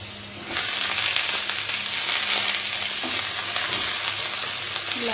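Vegetables and spices fry in a pan with bottle gourd greens, a loud continuous sizzle that jumps up as the greens go in, with occasional stirring clinks and scrapes.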